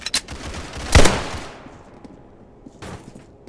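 In the Roblox game Criminality, AK rifle fire bursts in quick clustered shots near the start, peaks in a loud sharp volley around one second, fades into a tail, then a fainter burst follows near the end.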